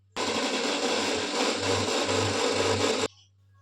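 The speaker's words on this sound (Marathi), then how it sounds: "आता हे याला मी मिक्सरमध्ये फिरवून घेते." A mixer grinder whirs loudly for about three seconds, a steady harsh motor roar that starts abruptly and cuts off, with a low hum continuing underneath.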